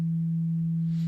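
A steady, pure sine tone made from a saw wave that has been bandpass-filtered in FL Studio, holding one low pitch at an even level for about a second with nothing else audible.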